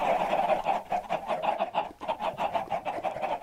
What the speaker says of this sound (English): It's just a wall of chickens.